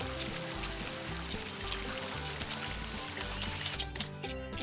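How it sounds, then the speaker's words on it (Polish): A water cannon stream pours steadily into a hole in a Paw Patrol duckling-rescue game on PS5, a continuous splashing rush beneath looping game music. "Skieruj strumień wody na dziurę, aby napełnić ją wodą"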